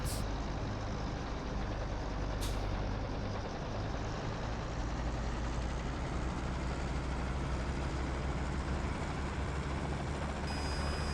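Steady heavy rotor and turbine roar of a CH-47 Chinook in a flight simulator game, a dense continuous drone holding level throughout with a couple of brief high clicks, no talk.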